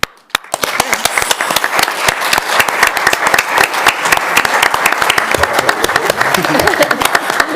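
An audience at a city council and redevelopment agency business meeting breaks into loud applause for its business sponsors, brisk dense clapping starting after a brief pause and holding steady close by for the rest of the clip.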